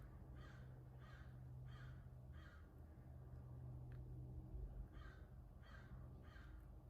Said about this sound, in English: there's a raven and it's going crazy